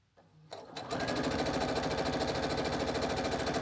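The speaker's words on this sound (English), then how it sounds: "just sewing down the line" A sewing machine chain piecing quilt blocks for a charity quilt runs in a steady, fast, continuous stitching whir after a brief quiet start, close and loud with no talking.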